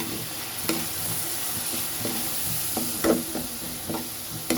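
Dried fish chili paste fries in hot oil with a constant sizzling hiss, punctuated by repeated scraping and tapping knocks of a stirring utensil against the pan, close and fairly loud.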